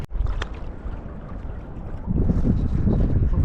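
Kayak paddling in open tidal water at Deception Pass, with continuous splashing and water wash close by that grows louder and busier in the second half, mixed with wind buffeting the microphone.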